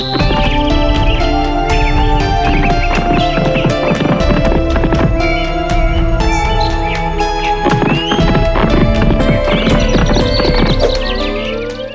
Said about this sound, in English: and rode his horse up the hill again.